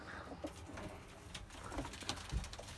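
Pigeons coo softly inside a coop, with low repeated calls, faint rustling and a few light knocks in a quiet setting.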